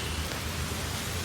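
Cyclone Fengal's heavy rain lashes Chennai in a thick, unbroken roar of drops on surfaces, steady and close, with a low rumble beneath it.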